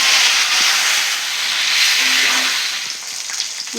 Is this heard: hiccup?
no